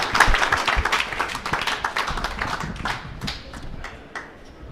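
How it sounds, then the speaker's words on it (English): Applause from the audience at a book launch event, a dense patter of many hands clapping close by, strongest at the start and thinning gradually toward the end. "All right, round of applause."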